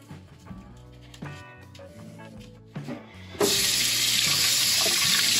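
A kitchen tap bursts on to rinse a home-brewing beer bottle, a loud steady rush of water after a few knocks and clinks of the glass in the sink.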